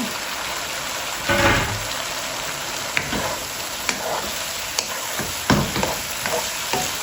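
Okra fries on high heat in a pan, a steady hiss and sizzle with occasional stirring scrapes and louder bursts of spatter, close up with no talking.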